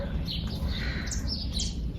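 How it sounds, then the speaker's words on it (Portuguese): Small birds chirp and sing in a flower garden with rose bushes, their high tweets scattered and fairly faint over steady low background rumble. "Olha só os passarinhos. Estão bem faceirinho cantando."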